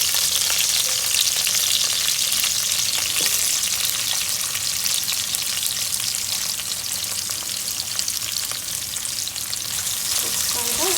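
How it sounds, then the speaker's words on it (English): Roughly chopped onion and green chilies fry for tomato rice, a dense, loud, unbroken sizzle with occasional stirring knocks heard up close. "Then adding the roughly chopped onion."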